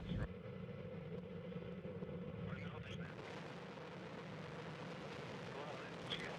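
A Russian Soyuz rocket lifts off carrying the Progress 74 cargo craft to the International Space Station, its engines giving a steady, heavy, broadband roar throughout while a commentator speaks over it.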